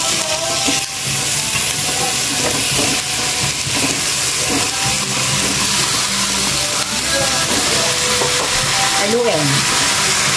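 Chicken pieces fry in a hot pan with onion and ginger, giving a loud, continuous sizzle. Spoon or spatula scrapes and stirring clatter sound through it.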